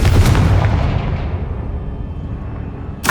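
A Confringo blasting spell explodes in the Hogwarts Legacy video game, a single heavy booming blast that rumbles and slowly fades over a few seconds, with a sharp new burst at the very end.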